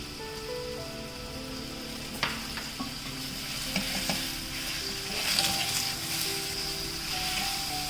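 Apple slices cooking with sugar in a pan over a low flame give a steady soft sizzle with occasional stirring scrapes and clinks, close and continuous with no talking.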